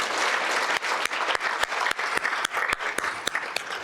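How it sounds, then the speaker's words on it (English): An audience at a nursing scholarship and alumni awards ceremony claps steadily and warmly, sharp individual claps standing out, with no voices over it. "I was going to ask for a round of applause"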